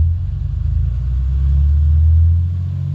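A 2015 RAM 3500 diesel pickup with a deleted emissions system idles with a steady, deep low rumble, loud and close, with no voices over it.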